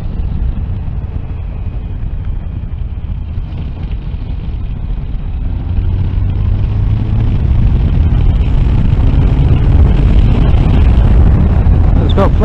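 A three-cylinder Triumph Tiger Sport motorcycle engine rumbles low and steadily while riding, partly buried under gusty wind buffeting the microphone, growing louder about halfway through.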